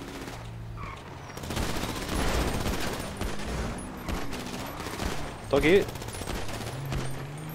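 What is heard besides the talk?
gunfire in video game GTA 5 Online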